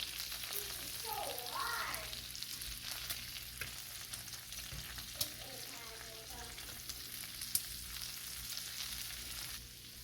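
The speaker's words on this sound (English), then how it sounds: "You notice that the sizzling has increased once again." Bacon sizzles on a griddle after flipping, its fatty ends crackling in a constant hiss that sits faintly under quiet speech, with a few small pops.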